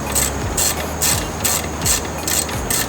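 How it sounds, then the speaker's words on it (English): Hand ratchet clicking in steady bursts of about five or six strokes, each with a sharp metallic ratcheting rattle, as small brake caliper bolts are tightened during a brake job, close and loud with no talk. "I'm not going to use air tools. I'm going to use my ratchet."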